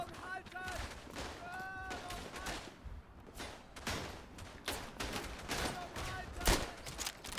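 Gunfire in the World War I shooter Verdun, a dense fusillade of rifle and machine-gun shots cracking near and far in rapid overlapping bursts, with voices shouting over the battle.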